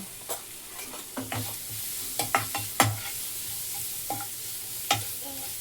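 Boiled potatoes with turmeric being mashed in a pan over high heat, heard as a series of separate soft knocks and scrapes of a utensil against the pan above a faint sizzle, with no speech.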